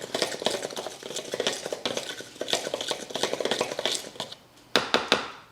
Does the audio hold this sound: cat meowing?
no